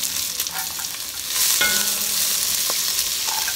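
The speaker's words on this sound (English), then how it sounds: "On medium heat in a large pot, add olive oil. Sauté the onion." Onion sautéing in olive oil in a large pot over medium heat, a close, steady sizzle with scraping stirs that grows fuller after a moment, with no talking.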